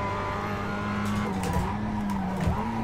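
Race cars in iRacing hold a steady, droning engine note, with several engines layered close together and a pitch that dips and rises as they lift and accelerate.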